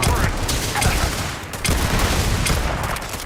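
Gunfire in the video game Starfield, a loud dense barrage of rapid shots and booms that continues without a break.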